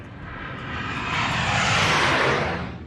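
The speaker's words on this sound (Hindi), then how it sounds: "सबसे पहले हम आपको दिखाते हैं सुखोई लड़ाकू विमान की गर्जना" Sukhoi fighter jet at a forward airbase, its loud broadband roar swelling as it passes close by, then beginning to fade, with no voices.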